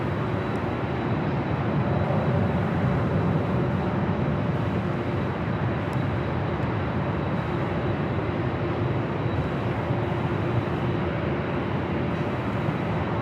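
Southwest Airlines 737-800 jet taking off from runway 24 left at LAX, a continuous loud broadband engine roar holding steady throughout without talk.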